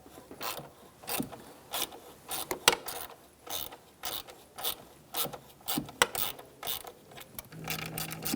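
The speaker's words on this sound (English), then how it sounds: "And now we're going to use a 7mm socket, and we'll remove the bolt." Ratchet with a 7mm socket and extension removing an ignition coil bolt on a 2007-2017 Ford Expedition 5.4L V8, a rapid series of close clicking strokes in a steady rhythm.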